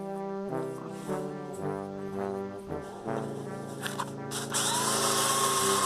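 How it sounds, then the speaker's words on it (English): A power sander on wood whirs and drones at changing pitch, stopping and restarting, then runs loud and steady with a hissing grind at the end. "Sanding, oiling and varnishing, oiling and varnishing."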